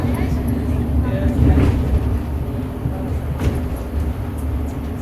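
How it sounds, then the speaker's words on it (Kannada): A tram passes through a street in Bonn, Germany, with a low rumble and hum that swells and fades, heard under people talking. "tram tram"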